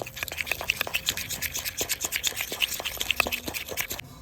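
A spoon beating a mixture in a bowl until creamy while making oven-free aloo patties, producing steady rhythmic scraping and rubbing strokes, close and moderately loud, stopping abruptly at the end.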